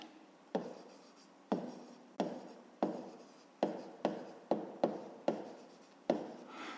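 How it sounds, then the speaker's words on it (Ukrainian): A pen writes a math solution on paper in about ten distinct strokes, each starting with a sharp scratch that fades away, spaced in an uneven rhythm and heard up close with no speech. "Так і запишемо. Записуємо нехай."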